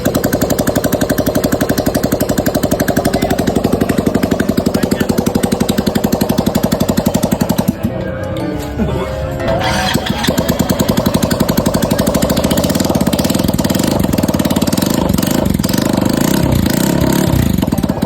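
A stock Yamaha Mio Soul i 125 scooter engine running loud and close with a fast, rattling idle, dipping briefly around a restart, then settling back into a steady, throbbing idle.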